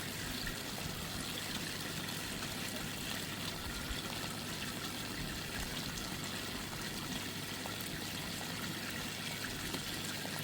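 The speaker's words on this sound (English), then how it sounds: "tip a bit of water out. So lose them all over the lawn." Water tipped out of a koi fry container onto a lawn, a steady trickling pour running throughout at moderate level with no talk.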